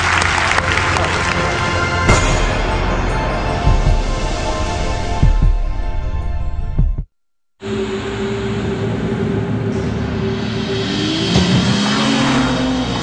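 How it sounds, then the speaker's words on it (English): A BMW 3 Series sedan engine revs loudly, its rising tone climbing near the end among other busy background sounds, with a brief silent gap partway through. "Introducing the new BMW 3 Series, our most advanced 3 yet."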